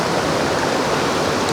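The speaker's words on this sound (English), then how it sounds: "you see the water is streaming towards the branch" A stream in the Ilsetal rushes steadily, a dense, loud broadband hiss of flowing water, continuous and close, with no voices.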